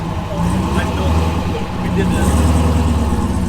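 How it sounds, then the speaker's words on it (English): A red Chevrolet Corvette C6 Z06 race car with a stock setup and street tires runs on the track at Laguna Seca during a Spec Corvette event. Its engine gives a steady, moderately loud drone, with a brief dip partway through. "There's Craig going out there."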